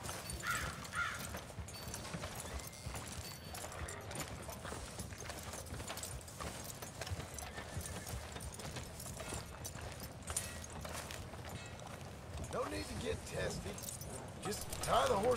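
Horse hooves clip-clop in Red Dead Redemption 2, a steady close trotting rhythm that runs throughout, mixed with game ambience and what sounds like talking.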